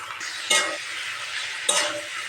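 A stir-fry of egg and fried fish is stirred in a pan, giving a soft sizzle under two distinct scraping strokes of a spatula, close and moderate, with no voices.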